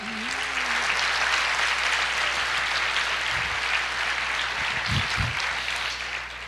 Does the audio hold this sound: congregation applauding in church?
yes